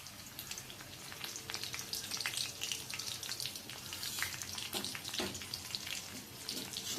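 Garlic and three split dried red chillies fry in oil with a faint, steady sizzle and scattered soft crackles and pops, quiet and close with no voices.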